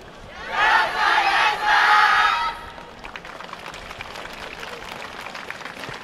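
An audience cheers loudly in bursts at the YOSAKOI Soran festival, a surging crowd roar for about two seconds that then drops to a quieter bed of scattered clapping and murmur.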